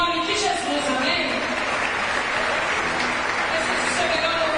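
Congregation applauding during a church Christmas service, steady broadband clapping held throughout at an even level, with a voice faintly audible beneath it.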